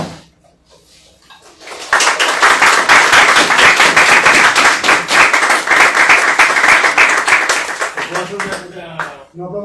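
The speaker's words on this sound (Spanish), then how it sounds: "No aplaudan que no las creo." Audience applause breaks out at the close of an open class on icons, art, theology and spirituality, a dense, loud wash of many hands clapping for about six seconds before fading into talk.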